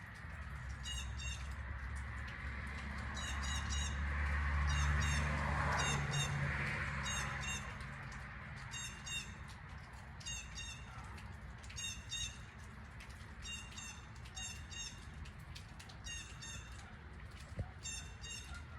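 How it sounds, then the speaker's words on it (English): Outdoors, a crow-like bird gives harsh, repeated caws in regular bursts that carry steadily at moderate distance, over a low background rumble that swells and fades near the start. "I don't know what type bird that is."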